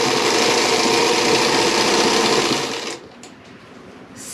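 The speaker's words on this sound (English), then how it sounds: "And I'm going to start sewing." A sewing machine runs fast and steady, stitching tablecloth fabric being made into a skirt, loud and close, then stops abruptly, leaving a few small clicks.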